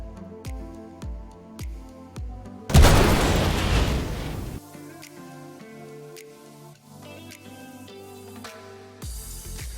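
Missile impacts blast a ship in a space combat game, three size 4 missiles hitting the Aorus: one loud, broad explosive burst rumbling for a couple of seconds between lighter rhythmic thumps and game music, with another burst at the end.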